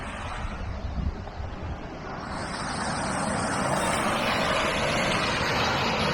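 Loud, steady roar of a turbulent river rushing past, a broad continuous wash with no voices, rising slightly and holding constant.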